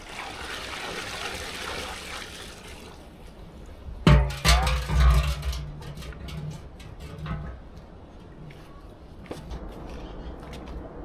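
Water sloshes and splashes in a bucket carried toward newly whitewashed washrooms, with a burst of louder splashing and clattering midway over a steady low background.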